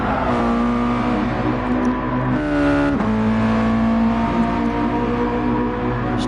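Race cars in a PS4 racing game, loud engine drone with pitch shifts as gears change, close and continuous throughout.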